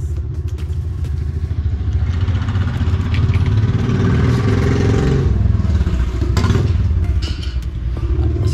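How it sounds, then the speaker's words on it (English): A motorcycle rumbles past nearby in a residential area, its engine noise steady and loud throughout, swelling slightly mid-pass before easing away. "See that motorcycle that just came by?"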